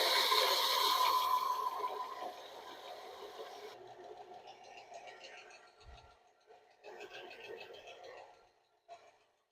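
A belt sander grinds a wooden knife handle with a steady, fairly faint hiss that fades out after a few seconds, followed by someone talking quietly over low workshop noise.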